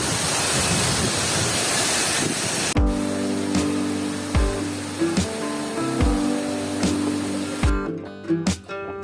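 Banyumala waterfall in Bali pours with a steady broadband roar, near and continuous, while sharp knocks and splashes punctuate the second half.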